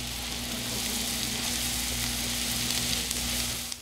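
Veal stew simmers in a pan with a steady, close bubbling sizzle that continues evenly throughout, over a faint constant hum.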